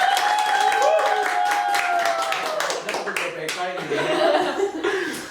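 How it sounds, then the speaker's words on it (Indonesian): An audience at a student sharing session about the IISMA and PMM programs claps in quick, busy bursts mixed with chuckles and laughter, while a host's voice and talk carry over the applause. "Tepuk tangan dulu."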